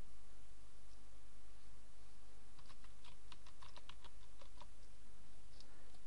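A burst of quick key presses on a computer keyboard over a steady background hiss, the clicks clustered in a short run midway through.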